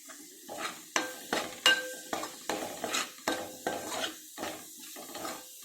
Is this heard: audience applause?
no